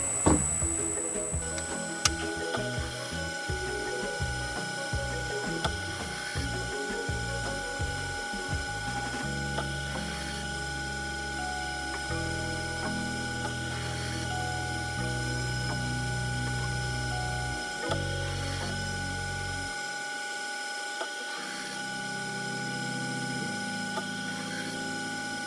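A faceting machine polishes the pavilion facets of a clear sapphire, giving a steady mechanical hum with ticking, ratcheting clicks and shifting low tones.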